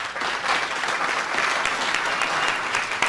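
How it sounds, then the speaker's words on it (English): An audience at a lecture event bursts into steady, dense applause that holds at full strength for a few seconds, with no voices over it. "Round of applause, please."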